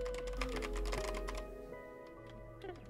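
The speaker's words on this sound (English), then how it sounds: "Sounds like Mr. Krabs walking over your keyboard." Rapid keyboard typing, a quick cluster of clicks that thins out to a few scattered keystrokes over a steady background tone.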